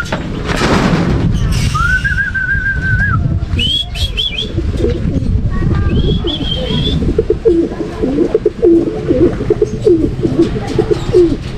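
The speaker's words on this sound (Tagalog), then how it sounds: "Ito mga kalapatids." Racing pigeons coo loudly and close by in deep, throaty rolling calls. A few higher chirps and whistles rise over a busy loft background.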